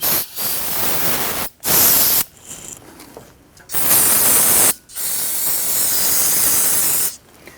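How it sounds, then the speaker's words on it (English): An aerosol can of solvent sprays brake hose connections on a Jeep Grand Cherokee in long, loud hissing bursts, roughly four sustained blasts separated by brief pauses, close up. "We're going to spray down both connections here."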